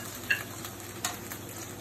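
Onions frying for chicken tinola in the same pan just used to brown chicken, with a steady soft sizzle, faint stirring clicks and a couple of brief scrapes close by.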